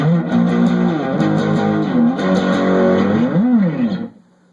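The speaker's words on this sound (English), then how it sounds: "Here's the distortion on this thing." Electric guitar through a distortion pedal on the neck and center pickups, a loud sustained chord with bending pitch that rings steadily for about four seconds before cutting off sharply.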